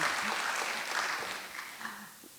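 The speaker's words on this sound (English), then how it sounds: "So round of applause to start us out." Moderate audience applause at a women's panel event, a round of clapping from a modest crowd that holds briefly and then tapers off, with faint voices underneath.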